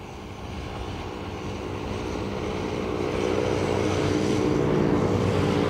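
A plane taxiing at Dublin Airport, a steady low engine drone and rumble that gradually grows slightly louder throughout, with no talk.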